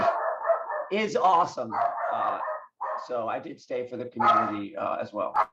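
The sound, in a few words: dog barking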